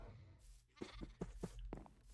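Sheep bleating in the Minecraft video game: a few short, wavering bleats in quick succession, close and moderately loud over low background rumble.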